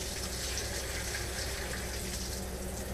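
Steady, continuous rush of running water from a camper's shower hose during winterizing, loud and close, with no talking, spraying freely.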